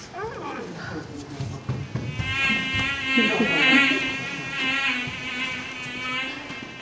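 In a high school theatre play, an actor voices a mosquito with a sustained nasal buzzing whine that wavers in pitch, close and loud, with other performers' speech and shouts around it.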